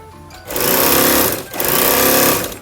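A three-thread overlock serger sewing machine runs just after being oiled, making two close, loud bursts of fast mechanical whirring and clattering separated by a brief pause.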